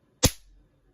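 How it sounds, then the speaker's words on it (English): A Christmas cracker is pulled apart and its small gunpowder strip goes off in one sharp, loud snap-pop that fades quickly, with nothing else around it. "When you pull a Christmas cracker, you make the two ends slide past each other, heating up the gunpowder, and you create a little tiny explosion"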